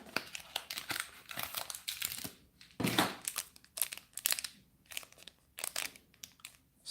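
Foil wrapping crinkles and tears as a Bakugan Battle Planet Dragonoid booster pack is ripped open, making close, irregular bursts of crackling and crunching with brief pauses between them.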